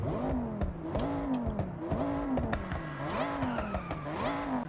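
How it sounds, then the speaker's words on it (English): Supercharged 2006 Dodge Ram SRT-10 pickup in the Forza Horizon 6 racing game, its engine revving hard in about four rising and falling pulls with a steady whine. The sound is loud and continuous, with no talking. "you can hear the supercharger on this"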